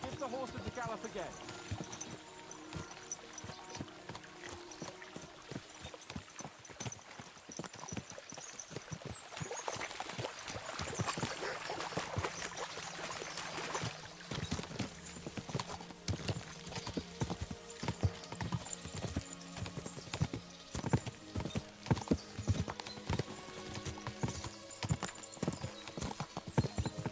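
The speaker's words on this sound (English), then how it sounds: "We'll give the horses a gallop again." Horses galloping in the medieval video game Kingdom Come: Deliverance II, a steady rapid clip-clop of hooves running continuously, with an occasional whinny and soft background ambience throughout.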